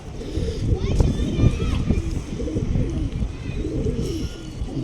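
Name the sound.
pigeon cooing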